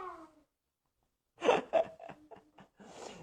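A cat gives a short meow at the start, followed after a pause by soft breathy sounds and faint murmurs nearby in a quiet kitchen.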